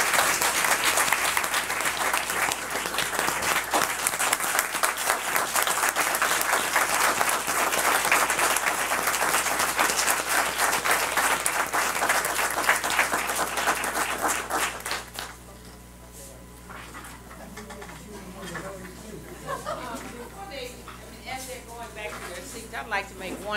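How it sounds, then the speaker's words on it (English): A big round of applause fills a county board of education meeting room, loud dense clapping for about fifteen seconds that fades into a person speaking as the room settles. "Let's give them a big round of applause."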